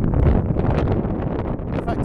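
Strong gusty wind buffets and whistles across an outdoor microphone, a steady loud roar with rustling bursts, during a windy hexacopter maiden flight.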